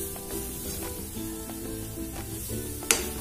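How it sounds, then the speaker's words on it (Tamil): Chili powder and spices sautéing in oil in a pan for a Tamil sardine fish curry, a soft continuous sizzle broken by regular stirring scrapes and a sharp clink near the end. "ஸோ இதெல்லாம் போட்டு நல்லா வதக்கணும்."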